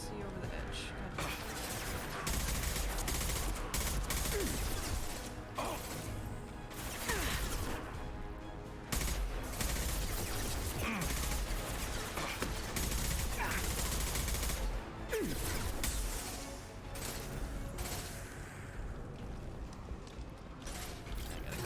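Sustained assault rifle fire in the Mass Effect game, dense overlapping bursts with mechanical clatter filling the scene at a steady loud level, with intermittent talk over it.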